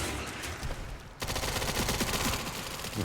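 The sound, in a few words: gunfire in video game Resident Evil 9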